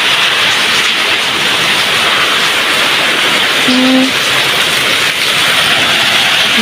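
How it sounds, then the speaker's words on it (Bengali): A cyclone storm lashes a flooded village home, with loud, steady roaring rain and wind filling the whole stretch as an unbroken wash of noise, close and heavy, with no pauses. "দেখুন কি ঝড় হচ্ছে"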